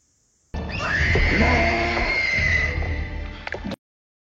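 A horse lets out one loud, sustained whinny lasting about three seconds, shrill and wavering with a rough, breathy edge, up close and alone.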